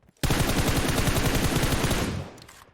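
A single sustained burst of rapid automatic gunfire in a PUBG Mobile firefight, fairly close and steady for about two seconds before fading, with no talking.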